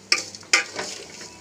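Vermicelli roasting in a pan with dry fruits and spices: two sharp scraping strokes of a spoon against the pan over a faint sizzle, close and brief.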